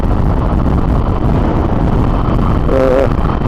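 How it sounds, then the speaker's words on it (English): Loud, constant wind roar buffets the microphone while riding a Honda ST1300 motorcycle in wet weather on a country road, a dense low rumble filling the whole stretch with a faint voice briefly surfacing near the end. "you can hear that bit of wind and wet"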